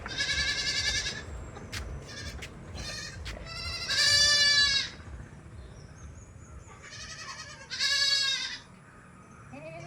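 A mother goat and her two kids bleat several times, close and loud, with a few shorter cries between them over a quiet barnyard background, at a livestock sale.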